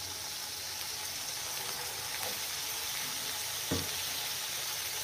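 Tomatoes frying with onions in a pan give a steady, dense sizzle throughout, with a faint stir or clink near the end and no talking.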